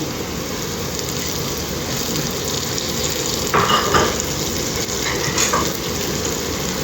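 Green chillies and mint sautéing in a hot oiled pan for mutton biryani, giving a steady close sizzle with a few brief scraping stirs partway through.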